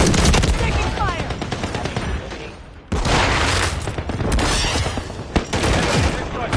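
Rapid automatic gunfire and bursts in the video game Modern Warfare 3 during a hardpoint match, loud and dense, with a brief lull midway before heavy firing resumes, with game voice announcements underneath.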